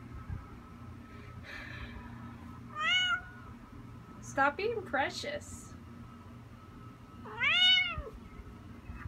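A cat relaxing outdoors meows three times, separate drawn-out cries spread across the stretch, close and clear, with a person's voice speaking between them over a low outdoor hum.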